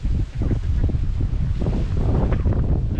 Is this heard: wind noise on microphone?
yes